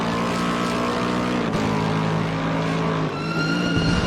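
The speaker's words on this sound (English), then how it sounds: "Now listen to my car." Race car engine on a track during a rookie clinic, a loud sustained harmonic drone with steady pitch, a brief dip near the middle and rising revs at the end, no talk.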